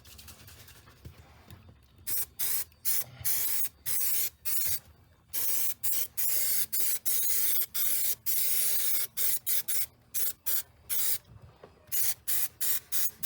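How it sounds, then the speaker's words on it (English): An aerosol can sprays adhesive onto a VW Beetle headliner in a quick series of hissing bursts, short and longer, close to the listener with brief gaps between them. "And I sprayed the headliner again right there."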